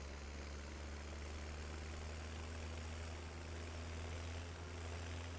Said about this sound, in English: And this is a great tractor